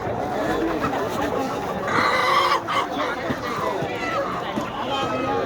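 Chickens cluck and squawk continuously amid a busy crowd at an animal market, with people talking nearby over the flock.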